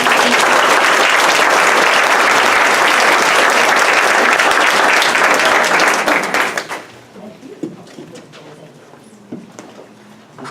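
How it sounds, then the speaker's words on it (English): An audience at a school board meeting gives a loud, sustained round of applause for about six seconds, then it drops off abruptly to quiet room sounds and a few scattered noises. "So if you will give everyone here a round of applause."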